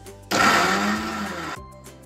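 A mixer grinder coarsely grinds soaked chana dal for vada batter, starting abruptly with a loud whirring motor roar that runs steadily for over a second before cutting off, alone without talk.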